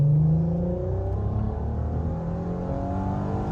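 A VW Golf V GTI swapped to the R32 six-cylinder engine revs hard from inside the cabin, a loud, smooth engine note climbing steadily in pitch and holding as it pulls.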